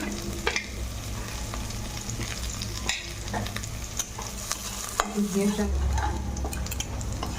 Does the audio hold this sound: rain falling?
no